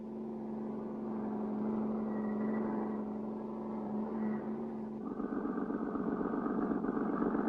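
A cartoon car engine drones steadily, its pitch shifting and rising as the vehicle pulls away in a chase, loud and continuous with no talk over it.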